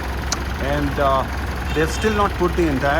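A Mitsubishi Pajero Sport engine, just started after fresh oil, idles with a steady low hum while a person talks over it close by.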